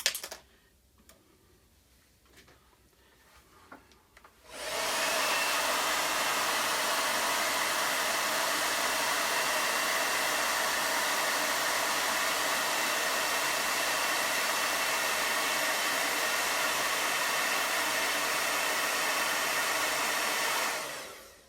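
A hair dryer blows steadily and loudly on wet paint on the underside of a railing, switching on after a few quiet seconds and running without pause to the end.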